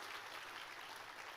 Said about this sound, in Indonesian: Tepuk tangannya boleh paling meriah.